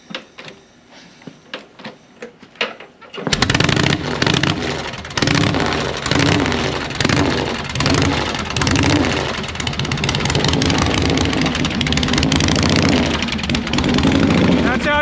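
A 1979 Harley-Davidson Shovelhead motorcycle is kicked over with a few quiet thumps, then catches and roars loudly, revving and idling roughly up close for the rest of the stretch.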